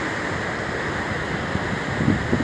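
Atlantic Ocean surf on a beach in Argentina, a steady broadband wash of waves with a few slightly louder breaks near the end, heard alone with wind in the background.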